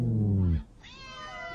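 Cats meow in two separate calls: a strong, low, drawn-out cry followed after a short gap by a thinner, higher, wavering meow.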